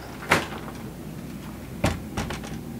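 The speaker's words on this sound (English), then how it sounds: "back here we got another sliding door that gives you complete privacy" A sliding bedroom door in a 2007 Country Coach Affinity 700 motorhome rolls and thumps shut, giving a sharp knock followed later by two more clunks as it settles and latches, close and fairly loud in a quiet interior.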